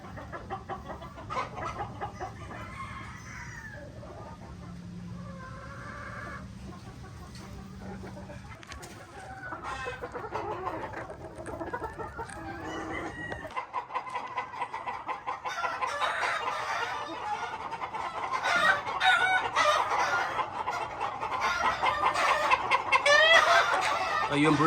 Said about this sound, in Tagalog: Anak po ito ng left nose broodcock from Sir Nene Abelio.